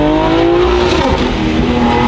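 A BMW G80 M3 fitted with a Valvetronic HFD midpipe and 400-cell downpipes produces a loud, close, continuous exhaust roar with a shifting revving pitch and no talk.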